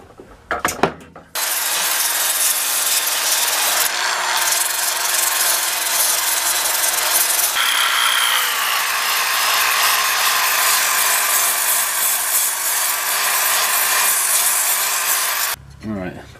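A power tool grinds and polishes an old rusty hatchet head, a steady, loud, continuous whirring rasp that runs almost the whole time, with a short break near the start and the motor stopping near the end.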